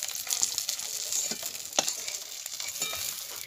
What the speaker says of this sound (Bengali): মাছগুলো ছেড়ে দিয়েছি, এইগুলো ভাজা হলে মাছ ভাজা হয়ে যাবে।